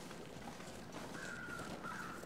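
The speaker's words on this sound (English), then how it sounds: "Stupid crows." Crows cawing in the wilderness of the survival video game The Long Dark, a few drawn-out harsh caws sounding faintly over quiet ambient wind.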